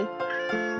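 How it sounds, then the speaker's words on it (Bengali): A cat meows twice in quick succession, close and clear, with rising then falling tonal cries and no talking. "বিড়াল ডাকে মিউ মিউ"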